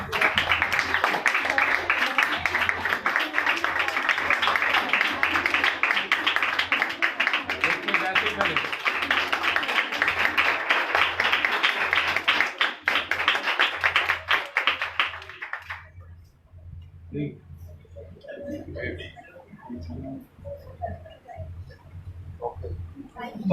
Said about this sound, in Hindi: आपकी जोरदार तालियों में।